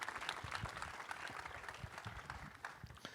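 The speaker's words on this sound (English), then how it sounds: "So we just give them a round of applause as they go to their seats." Faint round of applause from a gala audience, scattered hand claps spread over a few seconds, distant and soft with no voices.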